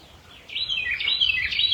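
Birds sing in a rapid series of bright, warbling chirps that rise out of quiet background and continue clearly and fairly close.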